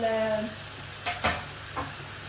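Onions for chicken fajita fry in a pan with a soft, low sizzle, punctuated by a few brief scraping stirs, fairly quiet throughout.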